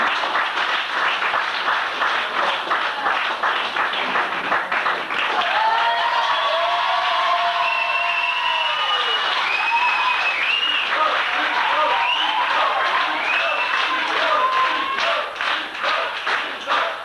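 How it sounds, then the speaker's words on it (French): A magic show audience applauds continuously, with steady clapping under cheers and shouted voices rising and falling across the hall. "Vous applaudissez."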